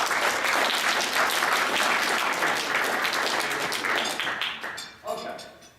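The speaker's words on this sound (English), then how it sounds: "I think you should give yourself a round of applause for being that consistently" Office staff applaud themselves, sustained loud clapping from a room of people that tapers off, followed by a few scattered claps and a voice near the end.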